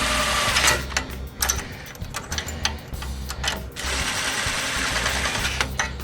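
Cylinder head bolts on a KT196 go-kart engine being snugged down with a ratchet or driver, rapid buzzing bursts of tool whir with short pauses between, close and fairly loud.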